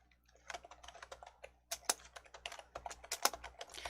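Quiet, close computer keyboard typing in irregular bursts of key clicks, entering a scenario name in an Excel spreadsheet, with short pauses between clusters of keystrokes and no talk.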